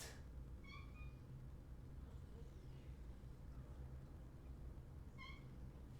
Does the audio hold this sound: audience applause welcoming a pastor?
no